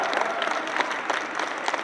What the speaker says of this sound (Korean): 이 박수 칠 차례입니다.